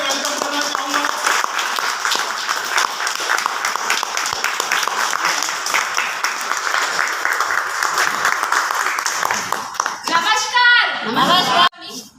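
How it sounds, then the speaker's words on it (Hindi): An audience at a product presentation in a hotel hall claps loudly and steadily for about ten seconds to welcome a speaker, then the applause tapers off abruptly. "रितिका असावा को जोरदार तालियों से वेलकम करना चाहूंगा।"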